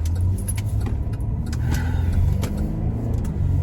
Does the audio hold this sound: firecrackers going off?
no